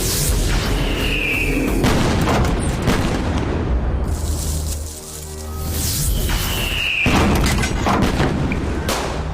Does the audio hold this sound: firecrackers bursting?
yes